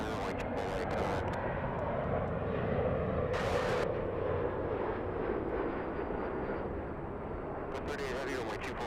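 A heavy jet airliner lands on runway 24 Right at LAX, a steady, loud broadband roar holding throughout with a slight swell near the middle.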